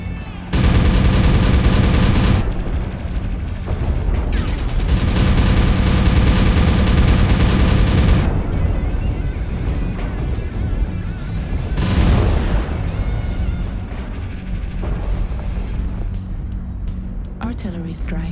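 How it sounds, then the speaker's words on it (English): Artillery strike and gunfire in MechWarrior Online, from a Marauder MAD-B battle: loud sustained rumbling barrages with dense bursts of fire, then a heavy impact roar and fading battle noise, with game voice callouts over it. "Artillery strike online."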